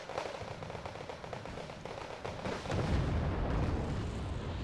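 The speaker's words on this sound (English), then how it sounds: "1 napalm round is going to fire." In the Wargame Red Dragon strategy game, a napalm round fires amid ongoing battle noise. A crackling rumble of distant shots swells midway into a heavier, sustained booming roar. No voices are heard.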